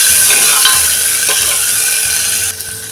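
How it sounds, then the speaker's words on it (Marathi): Peas and cashews are sautéed in a hot pan for spiced rice, giving a loud, steady sizzle with occasional stirring scrapes, and the sound drops slightly near the end. "ते आता चांगलं वाटाणे मऊ पडेपर्यंत परतून घेऊया।"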